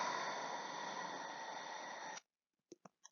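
A voice imitates a lawn sprinkler's steady whispering, a continuous soft hiss held for about two seconds before stopping, followed by a few faint short clicks.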